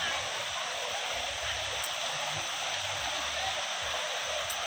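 A stream fed by Khun Korn waterfall rushes steadily, a continuous close wash of flowing water with no pauses.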